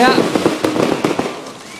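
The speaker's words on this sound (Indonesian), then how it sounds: "Sepertinya ini pesta kembang api paling meriah di abad ini ya" Rapid firework bangs and crackles pop in quick succession at an Islamic boarding school anniversary celebration, under people talking, loud and close.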